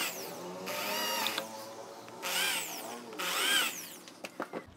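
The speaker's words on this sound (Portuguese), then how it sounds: "Vou fazer os furos aqui e vamos colocar os nossos parafusos." A power drill bores screw holes into the wooden side of a chest. The motor whirs in three bursts with pauses between them, and a few short clicks follow.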